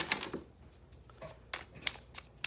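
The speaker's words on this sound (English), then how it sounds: "Let me shuffle these real quick because they're getting a little messy." Tarot cards being shuffled by hand, heard as a few quiet, papery riffling bursts separated by short pauses, close by and alone.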